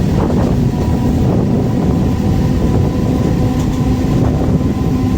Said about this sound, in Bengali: বেশ ধীর গতির সাথেই আমাদের সাথে দেখা হলো শিয়ালদা নিউ দিল্লি রাজধানী এক্সপ্রেসের